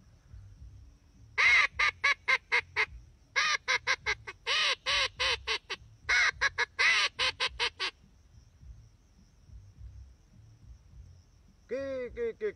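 A duck caller imitates a common teal with rapid bursts of short, sharp, nasal notes in clustered runs, loud and close, separated by brief pauses, with a final short burst after a silence.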